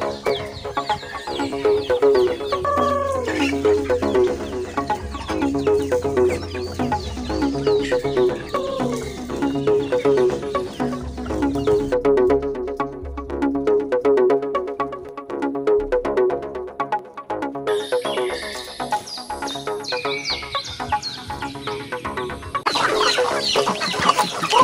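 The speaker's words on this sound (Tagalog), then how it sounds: "akong sulihon ang akong mga manok nga naglumlum ug namunay dinhi sa sulod sa akong kural" Brooding hens cluck continuously inside a chicken pen where eggs are being hatched naturally. The low, overlapping calls from several birds come close and fairly loud, with occasional sharper squawks and no talking.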